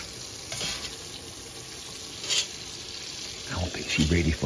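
Sausage sizzling in a pot while being stirred for gumbo, a steady low frying hiss with a few scraping stirs and clatters growing busier near the end, moderately close.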